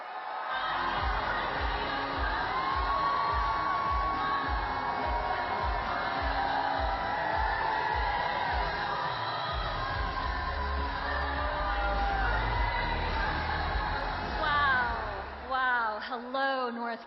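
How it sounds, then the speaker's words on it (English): Crowd at a campaign rally in North Carolina cheers and whoops loudly and steadily for the whole stretch, a dense roar of many voices with a voice over a loudspeaker rising near the end. "This is an amazing crowd."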